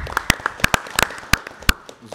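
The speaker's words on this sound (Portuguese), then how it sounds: "gostaria de pedir uma salva de palmas seu delegado" Scattered applause for a delegate in a legislative chamber session, a few sharp distinct claps from a small group spread unevenly over a couple of seconds.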